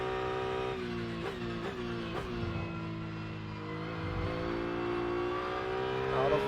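Racing car engine in the Rennsport sim, revving through repeated gear shifts, with steady harmonic drone rising and dipping at each change, loud and continuous with faint tire noise.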